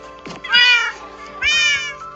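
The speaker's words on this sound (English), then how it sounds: "These are my cats." Cats meow in a video game, two loud, drawn-out meows about a second apart over a steady background hum with faint clicks.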